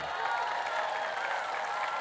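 A crowd at a community meeting with local leaders claps in a dense, continuous wash of many hands, loud and even from start to finish.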